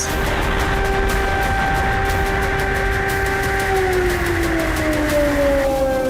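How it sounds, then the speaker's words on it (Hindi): Loud, wailing air raid sirens with tones that hold and then slowly slide downward, sounding over a rumbling background during a Russian cruise missile attack. "पूरा इलाका सायरन और धमाकों से गूंज रहा था।"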